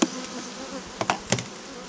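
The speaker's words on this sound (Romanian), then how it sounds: "Albinele sunt destul de cuminți." Honey bees buzz around an opened beehive at an apiary, a steady close drone with a few sharp knocks or clicks, and nobody talks.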